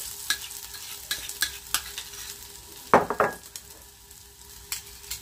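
Cabbage batter is laid into hot oil with a soft frying hiss, punctuated by sharp utensil clicks and scrapes, and a louder burst of sizzling and clatter near the middle.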